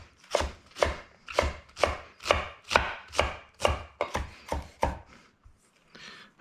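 A knife chops a vegetable into strips and then crosswise on a cutting board, giving about eleven close, steady, evenly spaced thwacks, loud and clear with no talk over them.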